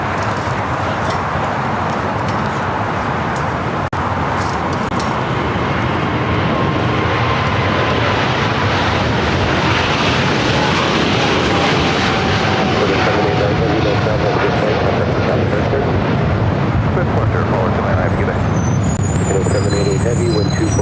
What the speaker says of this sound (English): Polaire Cargo, DHL 7478, rolling down 25 left.